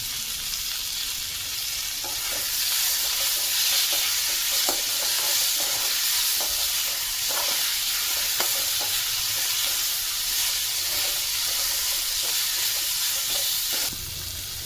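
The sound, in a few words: onion, tomatoes and chillies frying and being stirred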